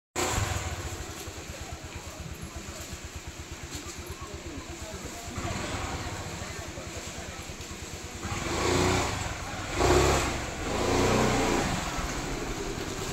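A motorbike engine idles with a steady low putter in rainy Munnar, then swells louder in a couple of revving surges near the end as the bike pulls away. It sounds fairly close, with no talk over it.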